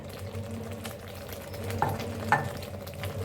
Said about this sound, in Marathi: मसाला आपला छान असा भाजायला लागलेला आहे